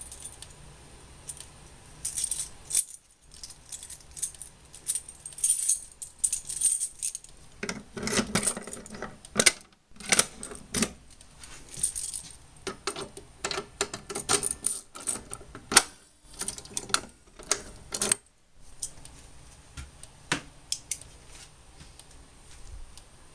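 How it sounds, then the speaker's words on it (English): Fire alarm pull stations on a Fire-Lite MS-9600UDLS system are reset by hand, giving a long series of metallic clicks, rattles and key-like jangles that come in close, uneven bursts with short silent gaps. "now let's go ahead and reset these pull stations"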